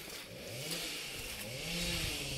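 A tractor engine revs and strains on a steep forest mountain road during chestnut gathering, a steady loud growl with rising pitch and some clatter, and no voices.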